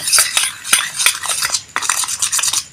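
A spoon stirs thick milk cream with sugar in a metal pan for kheer, giving a quick run of close scraping clinks and clatter in an irregular rhythm, with no voices.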